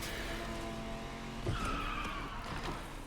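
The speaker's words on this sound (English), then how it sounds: "he's trying to slide in, but he hits his boost a little early and picks a bad line, so he's bunny hopping through the dirt" Cars skid in the Need for Speed Unbound street-racing game, one of them a Ferrari 488 GTB GT3 car. Tire squeal rises over a continuous engine drone.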